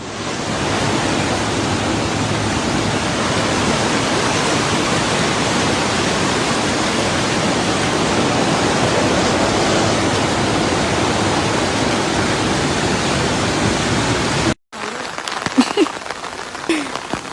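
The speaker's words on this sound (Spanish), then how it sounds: "Inundaciones intensas debido a lluvias extremas en Almodóvar del Río, provincia de Córdoba, España." Floodwater in Almodóvar del Río, Córdoba, Spain, surging after extreme rain: a loud, steady, broadband roar of rushing water that cuts off abruptly near the end, followed by quieter ambient noise.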